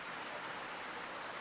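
Steady rain falls in the early morning near a village health clinic in North Maluku, a dense, even hiss of drops on surfaces with no voices and no breaks.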